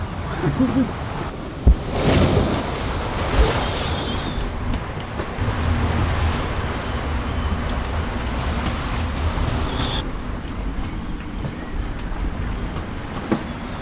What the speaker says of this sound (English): We just rolling around some of these bigger waves